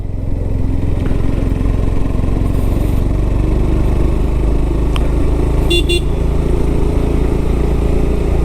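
A motorcycle climbs an uphill road, its engine droning loud and steady throughout, with a couple of faint brief horn-like beeps partway through.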